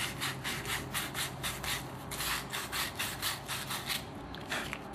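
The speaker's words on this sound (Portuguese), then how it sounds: "Você tem que lixar essa parte do rotor." The rotor of an electric water sander is sanded by hand with rapid, even back-and-forth strokes. The rhythmic rasping is close and steady, with no talking.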